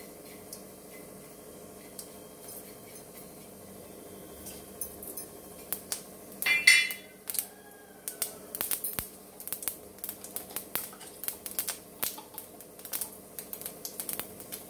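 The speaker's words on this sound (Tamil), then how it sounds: "எண்ணெய் ஊற்றியாச்சுங்க, கடுகு வெந்தயம் சீரகம் போட்டுக்கிறேங்க." Mustard, fenugreek and cumin seeds frying in hot oil for a brinjal kara kuzhambu give faint, quiet spluttering at first, then a steady run of sharp, irregular ticking crackles and pops close by, with no talking.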